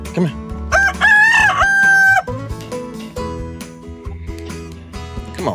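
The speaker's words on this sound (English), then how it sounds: "Come on, chicken. Just walk on in there." A rooster crows loudly and close in one long, rising call at a backyard chicken coop, followed by softer clucking from hens.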